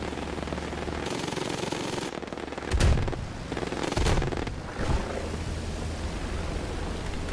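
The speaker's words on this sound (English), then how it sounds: "The only thing about these 40mm cannons is that they're very difficult to aim." 40mm aircraft cannons in War Thunder fire in short, heavy bursts over a constant roaring engine and wind drone, with three thumping volleys spaced a second or so apart.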